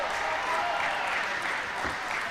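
A crowd at the European Para Table Tennis Championships at the English Institute of Sport applauds in a steady, moderate patter, heard together with a commentator talking over it.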